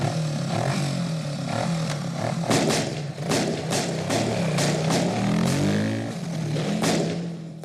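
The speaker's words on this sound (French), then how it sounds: "il y a un départ en moto qui est pas mal" A motorcycle revs and pulls away in a film scene by a stream, its engine roaring loudly with repeated sharp bursts over a dense background of score and effects.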